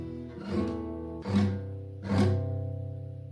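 Beginner guitar chords played badly, three strummed chords about one second apart with a buzzy, muddy ring that lingers between strokes, close and moderately quiet with no talking.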